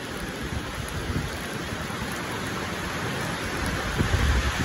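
Rain falling in Oman, a dense continuous hiss of drops striking surfaces, steady and fairly loud with a slight rise and a low rumble near the end, no talking.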